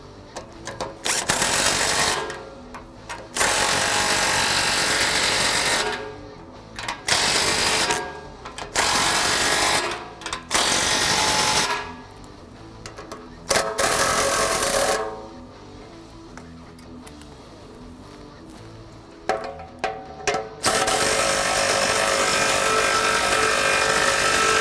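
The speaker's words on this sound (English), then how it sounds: "Now we'll go back through adjust and tighten down our clamps." A power tool, likely an impact driver, tightens Borla exhaust clamps on a 2015-2017 Mustang GT. Loud, buzzing bursts of a few seconds each repeat with short quiet gaps, then one long final run.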